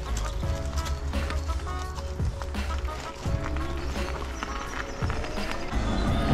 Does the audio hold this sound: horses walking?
yes